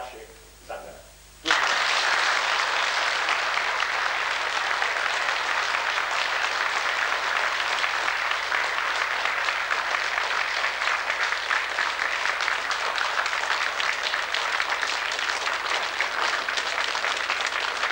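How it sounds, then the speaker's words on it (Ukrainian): An audience bursts into loud, sustained applause after a formal speech at a Ukrainian gathering, dense clapping that starts abruptly and continues evenly without pause. "Ваші оплески, що ви направду щиро прийняли наших клієнтів"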